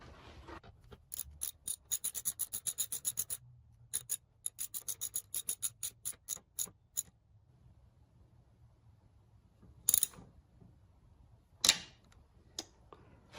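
Socket wrench ratcheting a bolt on a 1962 Viking 15 hp outboard engine: rapid series of sharp close clicks in bursts, pausing, then a few louder isolated clanks over a quiet background.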